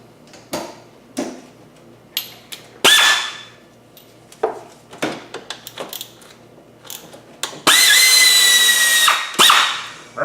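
A hand tool works a triple square bolt on a VW/Audi engine during a high pressure fuel pump cam follower job, giving scattered sharp clicks and ticks with a few longer, louder ratcheting bursts, with no talking.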